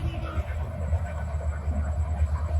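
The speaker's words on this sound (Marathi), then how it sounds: "ट्रेन इली आहे, आता आवाज येऊचो नाही" A train passes near Kasal, making a steady low rumble with faint rattling that holds throughout, close and fairly loud, with no speech heard.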